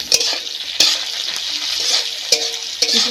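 Chopped onion, green chili, salt and turmeric fry in oil with a bright, steady sizzle, punctuated by several sharp clacks of a spoon stirring against the pan, heard close and alone.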